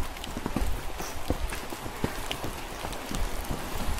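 Light drizzle while hiking on Gunung Andong, scattered drops pattering irregularly on nearby surfaces and gear, close and fairly soft, with small bursts of tapping and no talking.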